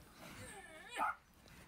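Human voice imitating a dog, a short sequence of whiny yips and one sharper bark-like cry, faint and slightly distant as if played back from a recording.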